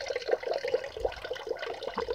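A small fountain in an orchid house runs steadily, its water splashing and trickling in a continuous bubbly patter with small irregular spurts, close and moderately quiet.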